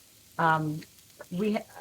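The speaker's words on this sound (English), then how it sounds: "This is tofu on a dry pan, no oil." Tofu browning in a dry nonstick pan with no oil gives a faint sizzle beneath a voice, which speaks in two short bursts.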